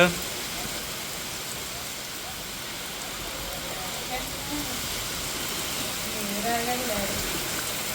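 Heavy rain with strong winds in the Makhu and Zira area on August 17 makes a steady, dense hiss throughout, with faint voices barely audible underneath.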